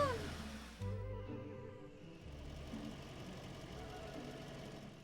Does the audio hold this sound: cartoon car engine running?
yes